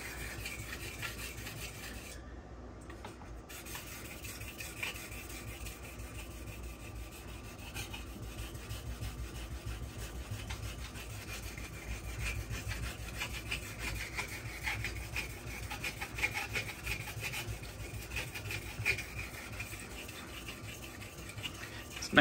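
A knife blade is pressed hard across a very fine 1-micron Buck Honemaster stone, making continuous quiet scraping and rasping strokes that go on steadily with no talking.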